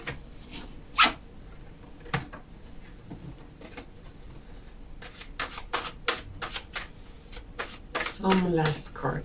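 Playing cards are handled and drawn from a deck, giving scattered crisp flicks and rubs at irregular intervals, close by, with a faint voice speaking between them.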